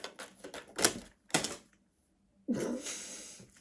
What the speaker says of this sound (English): like half the deck fell out